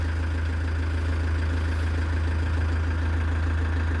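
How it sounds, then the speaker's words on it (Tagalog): A van's engine idles steadily to warm up in the dark before an early start, producing a continuous low rumbling drone that stays close and even throughout, with no voices. "binuksan ko na yung makina ng van para uminit"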